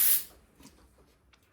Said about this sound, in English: Again, going to use some of this activator spray.